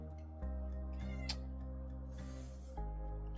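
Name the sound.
cat meowing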